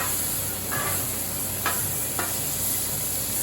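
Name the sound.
freeze-dried hamburger patties sizzling on a hot griddle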